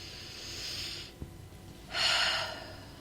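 A person breathes slowly and deeply during a calm guided pause, with a long soft inhale, a brief quiet gap, then a louder, breathy exhale that fades out.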